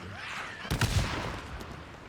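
A grenade goes off in the Days Gone video game, one sharp loud blast with a short rumbling tail that fades into a steady background hum.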